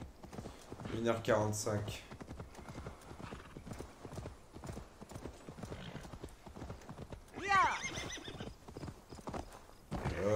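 Horse hooves clip-clop in Assassin's Creed Valhalla with a brief whinny, steady and close throughout while someone talks over them.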